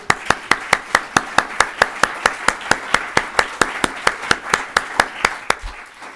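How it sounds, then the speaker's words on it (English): An audience claps for a speaker at a criminal justice conference, a regular series of sharp, fairly loud hand claps in quick rhythm that carries on steadily throughout. "So round of applause for Nick."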